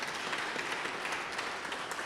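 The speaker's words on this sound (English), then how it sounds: "So we can give President Schultz a big round of applause for everything he does." A crowd at a university athletics celebration applauds, a dense, even wash of many hands clapping that holds steady and moderately loud with no voices on top.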